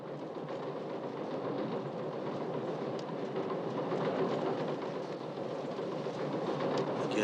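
A train rolling toward Oceanside station gives a steady, close interior rumble with rhythmic clickety-clack rail clatter throughout, with no voices.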